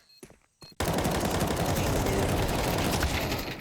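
Counter-Strike match on the Ancient map in a professional esports broadcast, with a few isolated clicks and shots followed by a sustained burst of rapid automatic gunfire, loud and dense to the end.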